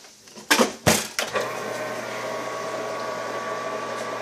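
A chamber vacuum sealer closing on a bag of fish fillets starts with a few sharp knocks as the lid shuts, then settles into a steady close pump hum.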